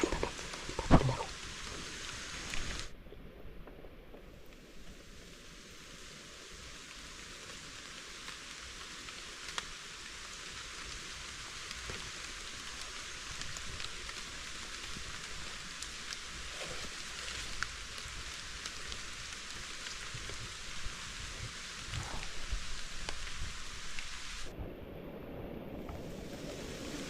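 Steady rain with gusting wind outdoors near a road during a heavy Thai downpour, a dense continuous hiss that holds for the whole stretch, swelling slightly toward the end, with no voices.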